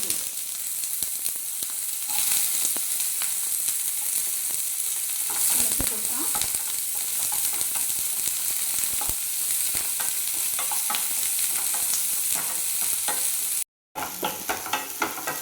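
Sliced onion frying in oil and ghee in a pan for chilli gobi, a dense steady hiss of sizzling with light stirring scrapes, broken by a brief silent gap near the end.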